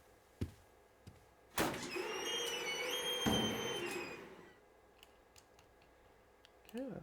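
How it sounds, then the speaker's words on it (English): A door effect in a film sound mix: a sharp knock or latch click, then a long creaking swing with squeaky tonal whine, and a final clunk, fairly quiet against a low background. "Okay, and then we'll just play with this door again a little bit."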